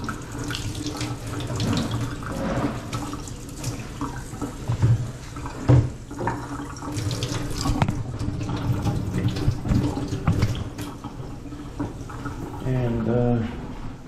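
Water runs steadily from a kitchen tap in a rental house just after a rat-damaged water line was repaired, a continuous splashing into the sink while someone talks over it.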